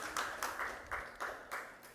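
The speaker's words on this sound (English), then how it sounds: "Round of applause, please." Audience clapping at an investigative journalism prize ceremony, heard as about six sparse, evenly spaced claps over two seconds, fairly faint and with a slight ring.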